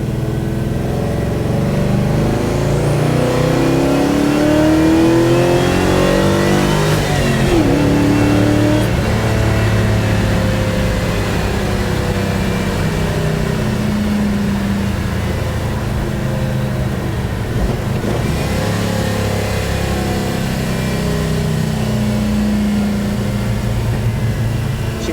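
A car with a Chevrolet 283 V8, in a 1941 Ford business coupe, accelerates steadily on the road, its engine note rising and settling through gear changes, loud and close inside the cabin with no voices.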